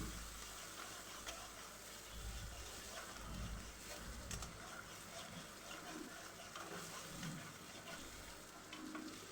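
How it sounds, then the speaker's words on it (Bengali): Chopped onions sizzle and fry in mustard oil in a wok, a continuous crackling hiss with scraping stirring strokes, close and steady with no talk. "পেঁয়াজ কুচি দিয়ে তারপরে আমি এখন নাড়াচাড়া করে পেঁয়াজগুলো একটু সফট করে ভেজে নিব"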